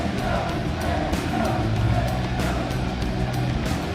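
A wrestling crowd at a Paris arena gives a loud welcome, a steady roar of cheering that is close and sustained throughout.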